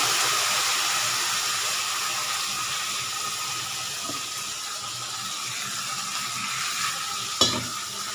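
Spices and tomato hitting a hot pan give a steady, loud sizzle and fry that holds throughout, with a small clink near the end and no voices.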